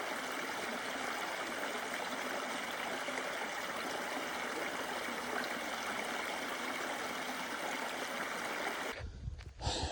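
A river runs past a farm where marron can be fished, giving a steady, close, full rushing flow that holds evenly for about nine seconds before a brief knock of handling noise at the end.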